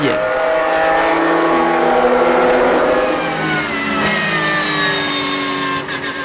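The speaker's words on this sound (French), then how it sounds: "Très bon départ de Patrick Michelier au volant de la Ferrari numéro 5" Ferrari race cars scream past at Dijon-Prenois circuit, with loud, rising and falling high-revving engine whines from several cars overlapping throughout. A commentator talks over them.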